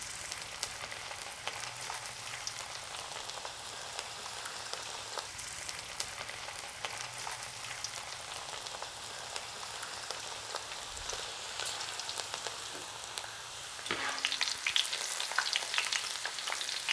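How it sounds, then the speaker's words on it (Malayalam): Sliced onions hitting hot oil for onion pakoda, a continuous soft crackling sizzle with occasional stirring, growing a little louder and busier near the end. "അപ്പോൾ നമ്മുടെ എണ്ണ ചൂടായി വന്നിട്ടുണ്ട്. നമ്മുടെ സവാള ഇട്ട് കൊടുക്കാം."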